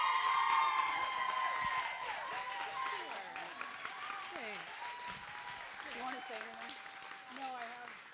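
A community showcase audience applauds steadily for several seconds, a dense wash of clapping that eases slightly, while voices call out and talk over it.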